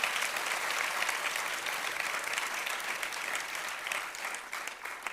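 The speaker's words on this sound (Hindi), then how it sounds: "मैं चाहूँगा सामने जज की भूमिका में बैठी हमारी जनता जोरदार ताली बजाकर अदालत शुरू करने की इजाजत दे।" Loud, sustained applause from a seated crowd at a staged public courtroom-style event, dense steady clapping filling all five seconds with a slight dip near the end.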